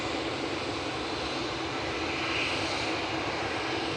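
A TUI passenger plane at Manchester Airport produces a steady, loud roar of aircraft engine noise that holds evenly throughout with no voices.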